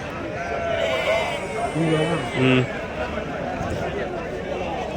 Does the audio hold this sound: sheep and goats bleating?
yes